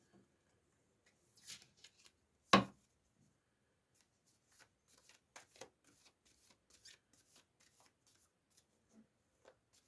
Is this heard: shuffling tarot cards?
yes